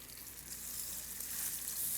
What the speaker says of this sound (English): You're gonna start to hear that going. So we're gonna get these seared.